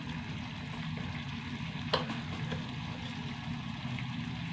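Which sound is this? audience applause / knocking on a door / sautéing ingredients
sautéing ingredients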